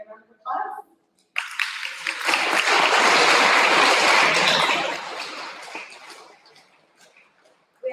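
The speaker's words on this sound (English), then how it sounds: "give you a round of applause" Applause from an audience at a high school awards ceremony rises after a brief spoken moment, swells to a full sustained clapping, then gradually thins and fades out.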